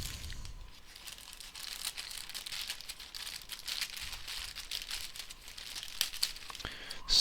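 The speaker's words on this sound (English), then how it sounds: "let's open the bag and see if they are in fact what they say they are" A plastic bag holding small LED panel-mount digital voltmeters being opened and handled, continuous close crinkling and rustling with a few sharper crackles toward the end, no talking.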